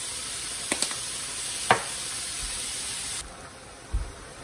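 Pork seasoned with salt, pepper and garlic powder fries in a pan, a steady hiss of sizzling with a few small clicks and a soft knock near the end.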